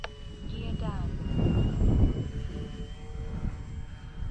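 An Avios King Twin radio-controlled twin-engine model plane flies with its landing gear lowering. Its motors give a steady, moderately distant whirring drone that swells briefly in the middle.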